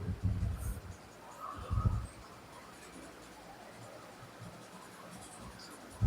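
A pen scratches across paper in a close, quiet, continuous scribble, with a few low bumps of handling near the start.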